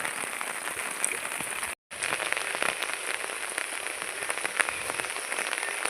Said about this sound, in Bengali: দুদিন ধরে এমন টানা বৃষ্টি হচ্ছে যে আর কি বলবো